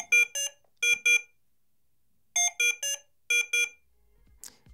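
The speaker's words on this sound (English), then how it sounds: "have an IEC-certified tone giving a low, medium, or high priority notification for medical ventilator applications" An IEC-certified medical ventilator alarm buzzer sounds in patterned groups of two and three short, clean electronic beeps with silent gaps between, loud and close, followed by a faint handling noise.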